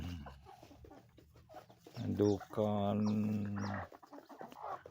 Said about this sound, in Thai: ให้ข้าวไก่แจ้